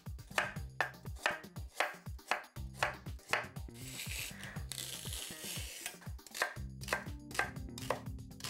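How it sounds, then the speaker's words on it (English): A knife chops carrots and celery on a board in fast, rhythmic strikes, close and crisp, with a smoother stretch of scraping and rubbing midway before the steady chopping resumes. "I'm going to start off by cutting up the vegetables I've prepared here"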